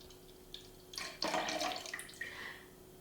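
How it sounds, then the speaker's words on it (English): Milk pouring into a bowl for a summer breakfast bowl, a short close burst of liquid splashing that swells and then tapers off. "The first thing we're going to do is pour the milk in here."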